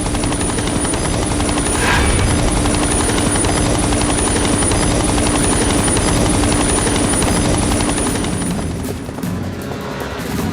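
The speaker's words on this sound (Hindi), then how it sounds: "हेलीकॉप्टर की आवाज से कहीं वो तुम्हारी बहन को नुकसान न पहुंचाए।" A helicopter's rotor and engine drone steadily and loudly for about ten seconds, a dense continuous roar with a faint high whine, easing slightly near the end.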